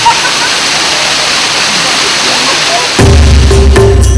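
A waterfall on a trail crossed by clear streams fills the air with a steady, loud rushing hiss, which grows heavier and deeper near the end.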